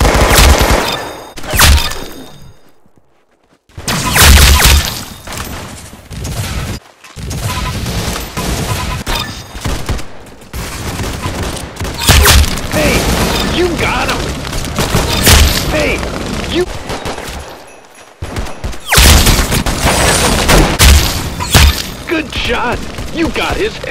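Repeated gunshots and booming blasts from a first-person shooter video game, loud and broadband, firing in bursts and separated by short quiet gaps, with excited voices talking over the action.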